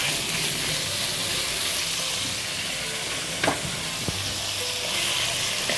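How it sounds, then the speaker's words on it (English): Pork pieces sizzle and fry steadily in hot oil in a wok, a dense continuous crackle with a couple of brief clinks from stirring partway through, close and fairly loud throughout. "Get that oil hot in your wok. And then once you've got your oil hot, put your pork bits in."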